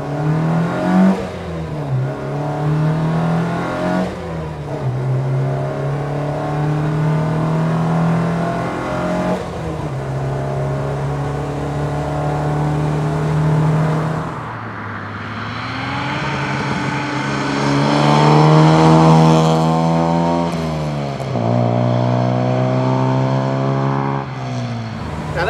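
A Volvo Amazon 123 GT driving on a road and accelerating up through its gears, the engine note rising in pitch, dropping at each shift and climbing again, loud and close throughout.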